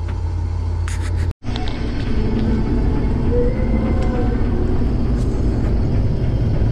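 A combine harvester with its header cutting barley on an Australian farm gives a steady, heavy engine drone and rumble with a brief dropout.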